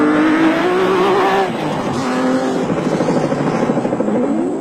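Onboard roar of a championship-winning Nissan Hardbody off-road race truck, loud and close, the engine holding high revs then dropping and climbing through rising pitch sweeps with a gear change.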